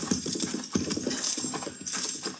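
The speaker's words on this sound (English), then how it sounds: "Those men on the horses." Horses' hooves clip-clop in steady, overlapping beats, as if several riders pass at a walk on a Kansas-era frontier street, moderately close with a light background hiss and no talk.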